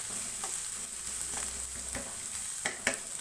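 Green chillies fry in a pan for a sprouted bean curry, giving a quiet, steady sizzle broken by a few soft stirring scrapes and clicks near the end.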